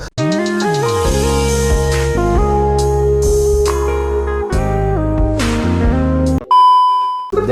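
A phone ringing with a tuneful electronic melody of bright stepped beeps playing steadily and loudly, then breaking into a sharper single tone near the end.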